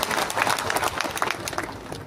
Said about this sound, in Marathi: आपण सर्वांनी मिळून त्यांच्यासाठी टाळ्या वाजवूया